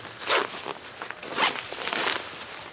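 Zipper on the bottom compartment of a Deuter ACT Lite 40+10 backpack pulled open in a few quick, close rasping strokes, clear and alone.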